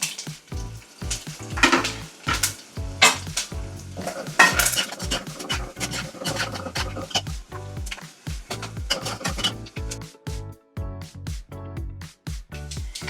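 Curry leaves and fenugreek seeds crackle and sizzle in hot oil for onion gojju, with steady frying hiss broken by frequent spoon stirs and clinks against the pan, close and fairly loud, no voices.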